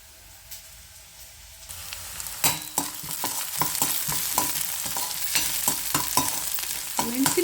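Garlic, onion and green chillies frying in oil as a tempering for mushroom sukka make a close, crackling sizzle that swells once they hit the pan, with repeated sharp stirring clicks and scrapes and no talking.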